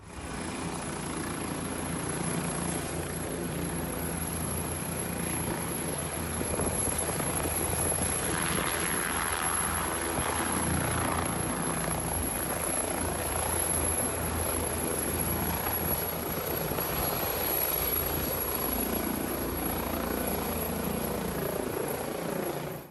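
A personal helicopter departing from a football pitch with five people aboard, its steady loud rotor and engine roar continuing unbroken throughout.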